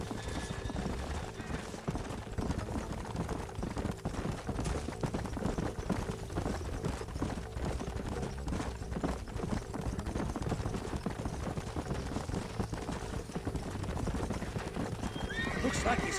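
Horses in Red Dead Redemption trot with steady clip-clop hooves and neigh, close and continuous, under speech.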